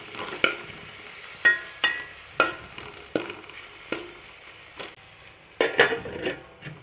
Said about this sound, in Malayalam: ആ തക്കാളി അരിഞ്ഞത് ചേർത്ത് നന്നായിട്ടൊന്ന് മിക്സ് ചെയ്യുക